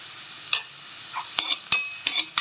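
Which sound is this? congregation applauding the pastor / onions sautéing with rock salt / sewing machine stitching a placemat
onions sautéing with rock salt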